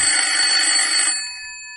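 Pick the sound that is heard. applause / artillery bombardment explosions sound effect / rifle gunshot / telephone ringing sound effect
telephone ringing sound effect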